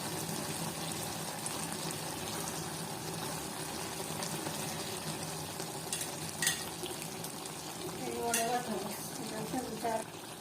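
Mutton liver with dill leaves is stirred in a pan, giving a steady low sizzle and bubbling with soft scraping strokes and a few louder clinks near the end, fairly quiet and with no speech.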